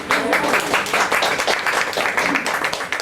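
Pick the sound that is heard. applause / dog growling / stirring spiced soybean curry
applause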